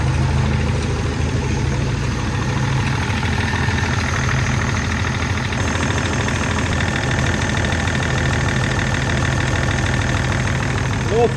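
A BMW E39 Touring, a rebuilt wrecked wagon low on fuel, idles steadily right after starting, its engine rumble loud and continuous throughout with a faint knocking texture; a voice speaks briefly over it.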